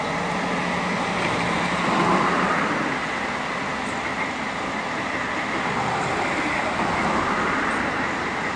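Dense roar of traffic and idling engines at Brasília's busy interstate bus station, with a bus heading to Santa Rita de Cássia nearby; a steady, loud wash of vehicle noise with no clear speech.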